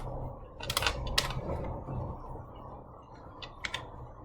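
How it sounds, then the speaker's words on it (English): A few quick bursts of keyboard typing, light clicks in short clusters over a steady low background hum. "typing again"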